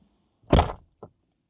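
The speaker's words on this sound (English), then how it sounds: "Let me close this door." A car door on a 2022 Subaru WRX swings shut with one solid, close thunk, followed by a softer short knock about half a second later, then quiet.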